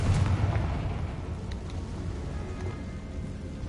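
Casting the Confringo blasting spell in a Harry Potter video game sets off one loud fiery explosion, a low boom that rumbles densely at first and then settles into a steady, decaying roar, with nobody speaking.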